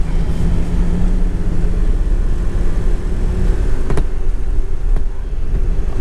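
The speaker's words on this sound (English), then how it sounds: "I really want to practice drifting around a cone, like an object" A car drifts around a cone, giving a loud, steady roar of engine and tyre noise close by that holds for the whole stretch, with no one speaking.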